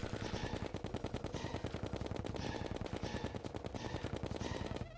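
Rapid, continuous gunfire of chlorophyte bullets in Terraria Master Mode, a steady stream of fast shots filling the whole stretch, loud and close with no talk over it.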